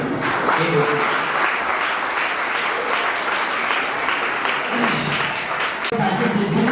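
Loud audience applause at a school naat recitation competition rolls on steadily, many people clapping together, with a few voices briefly audible under it.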